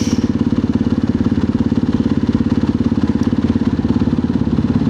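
A motorcycle engine runs loud and close during a street ride, with a steady, rapid pulsing throb that stays even throughout.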